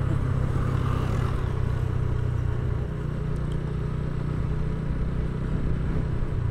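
A motorcycle riding along the Baharampur–Farakka highway, a continuous low engine drone with heavy wind rumble, steady and close throughout.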